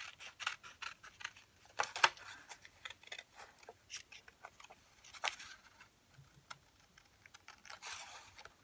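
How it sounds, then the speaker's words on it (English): Paper scissors snipping out paper apples for a journal project, a quick run of crisp close cuts in irregular bursts with soft rustling between, no voices. "you're gonna cut these apples out"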